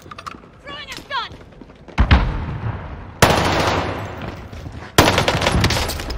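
Gunfire in Call of Duty Warzone: loud bursts of automatic fire crash in at about two seconds, again near three and five seconds, with a short whistling effect early on.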